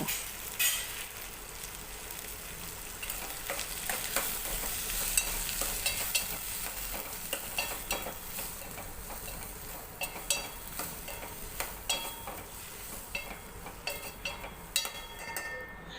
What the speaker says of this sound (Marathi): मालवणी गरम मसाला घालणार आहोत हे सर्व मिश्रण एकदा व्यवस्थित परतून घ्यायचं आहे